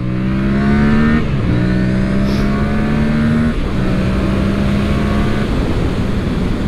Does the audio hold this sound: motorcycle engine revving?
yes